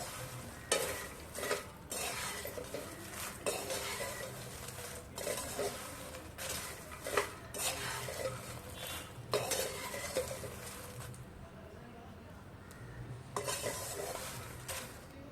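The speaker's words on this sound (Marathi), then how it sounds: "हे आपलं व्यवस्थितरित्या रोस्ट झालेलं आहे, फ्राय झालेलं आहे, सगळं मिक्स झालेलं आहे सगळं मिश्रण." A spoon stirs roasted makhana chivda in a pan, giving repeated scraping strokes and light metallic clinks at an uneven rhythm, close and fairly quiet, with soft crunchy rustling between them.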